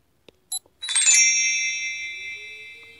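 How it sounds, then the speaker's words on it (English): The "Fairy dust" notification tone plays on a Samsung Galaxy Note 4 running a custom Lollipop 5.1.1 ROM, a few soft taps followed by a bright shimmering chime that rings out clearly and slowly fades. "Fairy dust sound."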